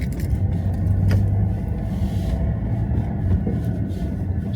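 A car turns around during an evening drive; a steady, close engine and road rumble carries on throughout, with no talking.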